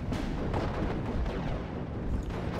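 Mortar fire and explosions in the WWII strategy game Steel Division: Normandy 44 at Pointe du Hoc, a dense rumbling barrage of booms and blasts overlapping continuously at close range.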